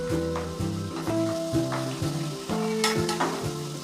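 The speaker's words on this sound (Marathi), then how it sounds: "आपण ही मिरची पण तळून घेतोय" Green chillies frying in hot oil on a stovetop, a steady close sizzle with stirring scrapes and bubbling crackle running throughout, no voices.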